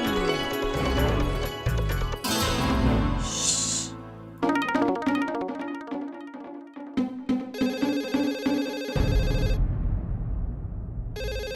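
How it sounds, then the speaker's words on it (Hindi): A telephone rings loudly and repeatedly in an indoor comedy scene, its bell-like trilling mixed with bright background music and no clear speech. "देख मैं ये फोन उठा नहीं सकता, तो ये फोन उठा।"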